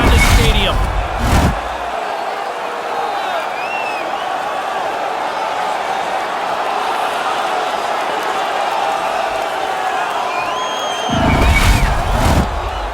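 Crowd noise fills a hockey stadium during an NHL playoff game between Montreal and Quebec, a broad, continuous roar of cheering that swells at the start and end, where loud thumps and a commentator's voice come through.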